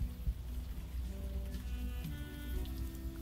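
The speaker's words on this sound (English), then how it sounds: "the fucking rain and stuff" Steady rain falling in the video game Unavowed, a soft continuous patter with low ambient hum and faint melodic tones over it, no talking.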